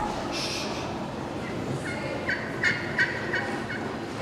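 Slate turkey call imitating a waking-up gobble, a series of about six short rising yelps played in quick succession, moderately loud and close over faint room noise.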